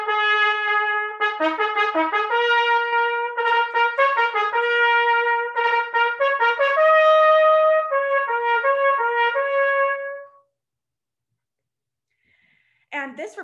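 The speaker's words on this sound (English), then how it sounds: "we basically get this fanfare progression with a lot of perfect fourths" A solo trumpet plays a fanfare progression built on perfect fourths from Otto Ketting's Intrada, with quick repeated notes and held tones for about ten seconds. Silence follows, then a voice starts.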